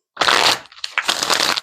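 Two quick riffle shuffles of a tarot deck, close and crisp, each a dense papery flutter lasting about half a second with a short pause between.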